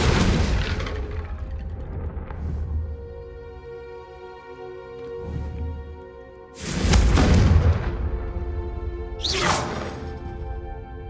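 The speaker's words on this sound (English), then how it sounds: "I think you'll find that a Confringo cast travels a bit farther than that of a spell like Incendio" Confringo fire spells cast in the Hogwarts Legacy video game, heard as several loud booming blasts with rushing whooshes, one at the start and others around the middle and end, over sustained tonal background music.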